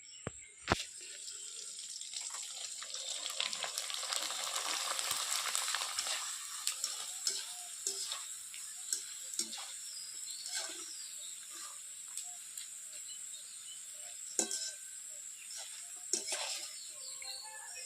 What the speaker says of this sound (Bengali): এবার জোয়ান দিয়ে এই কয়টা পাপড়টা ভেজে নেব